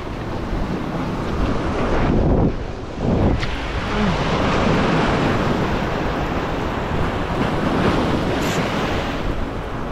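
Strong wind roars continuously while a fishing line is cast at sea, with surf and rushing air buffeting the microphone throughout and no voices.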